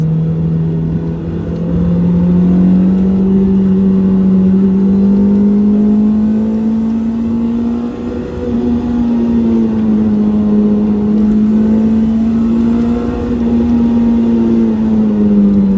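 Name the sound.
sports car engine accelerating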